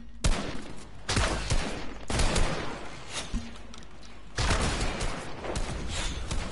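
Bursts of gunfire in the video game Fortnite, several sharp volleys separated by short pauses, loud and close with no talking.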